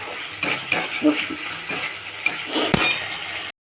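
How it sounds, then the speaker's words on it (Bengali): Spice masala for a pea dal and cauliflower curry is stirred and sautéed in a pan, with repeated scraping strokes and metallic clinks of a spoon over a soft sizzle. "মশলাটাকে খুব করে কষে নেব"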